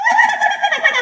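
Halloween witch cackle sound effect with added reverb, a short burst of high, rapid laughing whose tail rings out smoothly instead of stopping dead.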